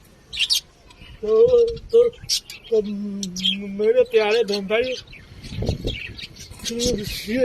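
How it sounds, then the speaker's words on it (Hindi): Australian parrots kept as pets chirp and tweet in short high calls, scattered between and beneath someone speaking close to the microphone. "तो ऑस्ट्रेलियन तोते बोलते"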